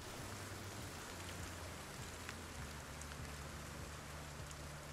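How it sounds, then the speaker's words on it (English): Moderate rain falls steadily in the survival video game Project Zomboid, a faint even patter with a low droning hum beneath it. "This might actually be good. A moderate rain."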